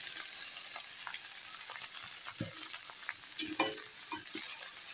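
Onion with arum leaves and root sizzles steadily in a hot pan, with a few scraping, clattering stirs toward the end and no voices.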